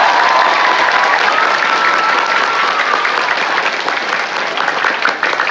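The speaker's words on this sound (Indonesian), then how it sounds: "Tepuk tangan itu." Loud, dense applause from a school audience fills a hall at an Isra Miraj commemoration, a steady wash of many clapping hands that holds for several seconds before easing slightly at the end.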